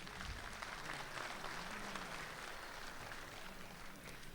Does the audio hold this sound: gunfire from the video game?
no